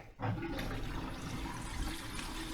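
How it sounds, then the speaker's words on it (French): Water gushes steadily from a tap opened after a pipe replacement, a broad continuous rushing hiss that starts abruptly and holds at an even level. "Là, j'ouvre le robinet."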